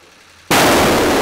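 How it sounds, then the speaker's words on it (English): A police flashbang grenade detonates in one sudden, very loud blast that cuts in from near-silence and stays as a roaring, full-band wash to the end, with no voices. "a flashbang is an amount of force. That comes through first. It's gonna attract your attention."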